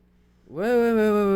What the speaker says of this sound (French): C'est le fameux chat noir.